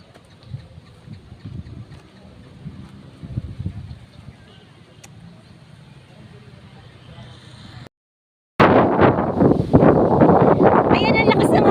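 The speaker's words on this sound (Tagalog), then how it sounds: "ang lakas ng hangin." Faint outdoor rumble with a voice at Kawayan Eco Park, then after a brief gap strong wind buffets the microphone in loud, roaring gusts.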